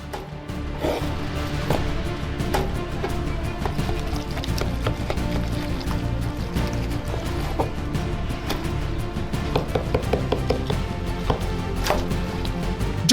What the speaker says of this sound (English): We cut large pieces of meat from the carcass.